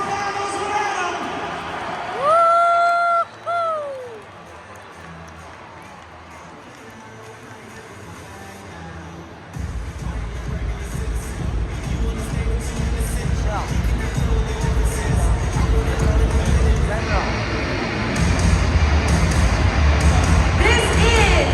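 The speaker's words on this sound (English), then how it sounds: "let's give a huge round of applause for all of the unsung heroes in Monster Jam" A stadium crowd at the 2024 Monster Jam World Finals roars and applauds in a broad, sustained wash that swells after an announcer's amplified voice, with loud talk continuing over the noise.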